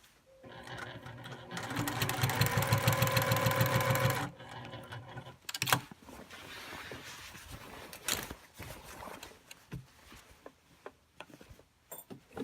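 A sewing machine runs steadily while stitching a quilt, making a fast, loud, even mechanical whir for about four seconds. After it stops come lighter handling clicks and taps.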